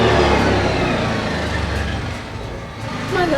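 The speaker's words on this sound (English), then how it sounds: "I don't know if you heard that, but there was a car sound." A car drives past, a steady low engine rumble and road noise that stays fairly even before swelling again near the end, with no talking.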